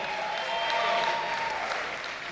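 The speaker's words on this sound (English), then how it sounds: "Let's give this guy a big round of applause." Applause from an audience at a political rally in Charleston supporting Kamala Harris's presidential run, a steady dense wash of clapping that swells and then eases slightly, heard on its own without speech.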